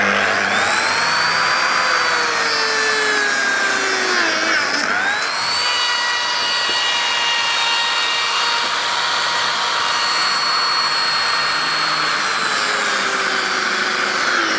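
Lamello Zeta biscuit joiner cutting into a panel edge, a loud steady motor whine with shifting tones, running continuously up close.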